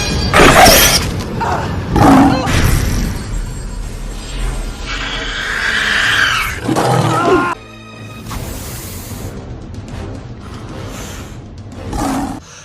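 A tiger-like roar sound effect from a Predator movie, loud and rumbling with crashing, smashing noises mixed in, ending with a quieter stretch and a last burst.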